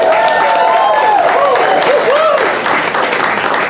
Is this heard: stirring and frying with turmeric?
no